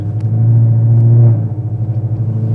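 A cammed sixth-generation Chevrolet Camaro SS V8 rumbles loudly up close, a deep lumpy idle-like drone that swells briefly, then settles into a choppy, pulsing lope.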